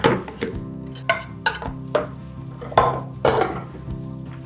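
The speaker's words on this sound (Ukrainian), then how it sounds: "Беремо нашу зварену і трошки вистихшу картоплю і пересипаємо сюди." Cooked, slightly cooled boiled potatoes tumble into a large bowl with a series of sharp clattering knocks of spoon and dish, several distinct hits spaced out over a few seconds, close and fairly loud.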